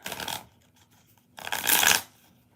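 A deck of tarot cards is shuffled by hand in two short, crisp riffling bursts, close and loud, with a quiet pause between them.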